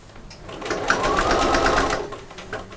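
A sewing machine runs steadily while stitching a second row on a sewing machine cover, its fast, even mechanical whirr loud and close for most of the clip and heard alone.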